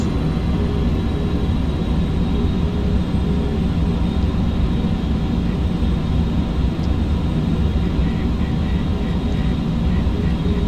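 A BAe 146 jet airliner in a flight simulator descends toward landing with a loud, unbroken engine roar and cabin drone that holds steady throughout.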